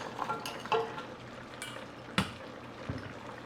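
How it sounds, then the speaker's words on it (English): Shiitake mushrooms, carrots and other vegetables going into a pot of braised short ribs, with a few soft clatters and stirring knocks over a low bubbling simmer, close and fairly quiet. "So now let's put all the vegetables. That's the mushrooms, Shiitake mushrooms, and the carrots,"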